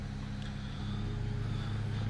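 A Mercedes-Benz S600L with a cold engine idles steadily just after start-up, a low, even hum that holds constant throughout with no revving.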